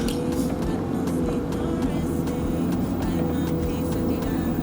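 A Ferrari 488 GTB pulls away gently under light throttle, with a steady, close engine rumble and road noise throughout and no speech.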